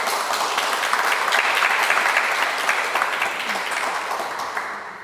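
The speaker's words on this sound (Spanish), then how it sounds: "Aplausos, por favor." Audience applause fills an indoor hall at an evening engineering lecture on a bioceanic railway project, a dense, steady clapping that holds strongly throughout before thinning slightly at the end, with no voices over it.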